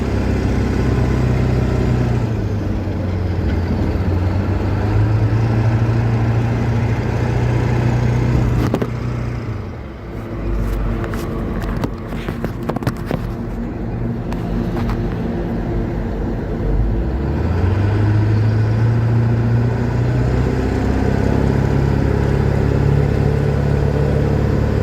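A 1977 Ford HighBoy truck fitted with a 7.3L Powerstroke diesel pulls steadily through its gears, engine tone rising and dropping at each shift; a loud, continuous drone from inside the cab with no talk.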